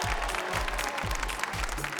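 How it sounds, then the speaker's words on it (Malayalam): An audience at a college Christmas event at Assumption College Changanassery applauds a fashion technology team receiving a prize, with broad, steady clapping filling the whole moment. "ഫാഷൻ ടെക്നോളജിക്ക് നല്ല കൈയടി കൊടുത്തേ"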